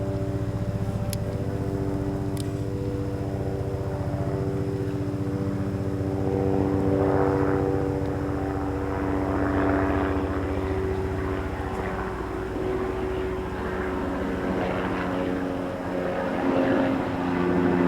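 A low, throbbing rotor and engine drone from a helicopter overhead, steady and loud throughout with a pulsing beat.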